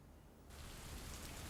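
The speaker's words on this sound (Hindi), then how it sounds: "लो, बारिश शुरू।" Steady rain begins abruptly partway through, a broad hiss of falling drops that switches on and then holds at an even, fairly loud level with no voices.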